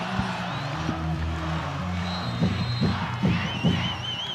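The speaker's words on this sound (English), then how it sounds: "Really hearing that crowd intensity right now" Crowd at a high school football game, Corona Del Mar at Newport Harbor in the Battle of the Bay, a steady far-off roar with rhythmic thumps and whoops building near the goal line, with some whistling.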